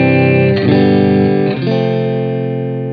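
A sustained electric guitar chord through a Line 6 POD HD500x rings out, then gets restruck twice, with a short, subtle room reverb tail rather than a big ambient wash.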